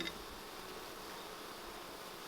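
A honey bee buzzes near a hive in a bee yard, a faint, steady insect drone that holds evenly throughout, heard alone without talk.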